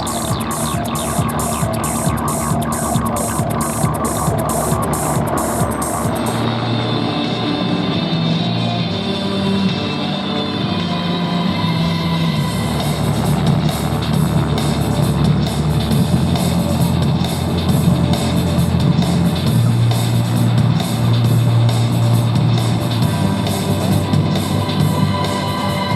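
A Georgia State Patrol helicopter flies at an airshow, its rotor throbbing steadily in a continuous low drone and whoosh from a distance, with a faint announcer's voice and crowd ambience underneath.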